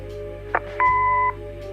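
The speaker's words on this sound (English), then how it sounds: "Leave a message after the beep." A single answering machine beep in the game Kathy Rain, held steady for about half a second after a brief blip, clear and close with a faint background hum.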